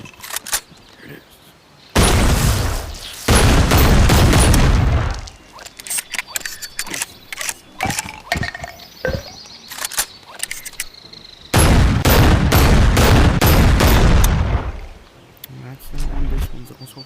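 Shotgun blasts in the VR game Bonelab, two long loud bursts with a few sharper cracks and clatter between them, heard alone without voices.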